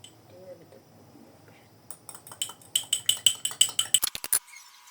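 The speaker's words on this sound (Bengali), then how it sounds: "এভাবে আমি ডিমটাকে ভালো করে পেঁয়াজ কুচি এবং সব কিছুর সাথে মিশিয়ে ছড়িয়ে নিলাম।" Egg mixed with chopped onion in a pan for Mughlai paratha, a quiet start giving way to a quick run of about a dozen sharp metallic clinks and taps of utensil against pan, close and rhythmic.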